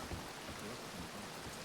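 Steady rain falls in the game Red Dead Redemption 2 on WildRP, a dense even hiss with soft low patter that holds at a constant level throughout.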